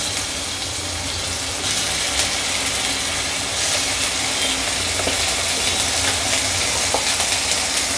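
Ginger garlic paste fries in a little oil in a pan, a loud, dense, continuous sizzle close by, with faint stirring underneath and no talking.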